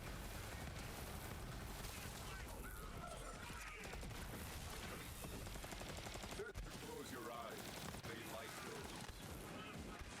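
Dense gunfire in the PS5 game Borderlands 3, continuous loud shots and explosions layered with game effects and music, with speech mixed in.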